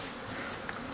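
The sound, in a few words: swarming honeybees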